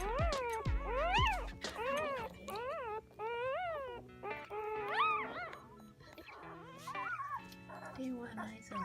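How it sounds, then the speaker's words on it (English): Two-week-old puppies in a prison service-dog project cry and whimper, a run of high, wavering squeals and yelps that come in quick bursts, close and fairly loud. "They are noisy, cute, and hungry."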